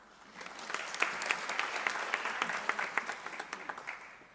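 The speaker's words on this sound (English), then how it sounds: "Let's give them a better round of applause, please" An audience at the Africa eWeek 2018 conference applauds its panelists, a soft, somewhat distant patter of many hands that swells and then holds steady, with a few sharper claps standing out.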